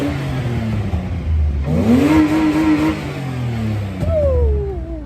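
Barra-swapped Nissan Skyline engine revs quickly up to its rev limiter and bounces off it in a short, loud burst, then drops back and blips again, close by with no voices.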